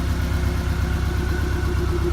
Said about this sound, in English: it has a very unique sound for a 4-cylinder, very throaty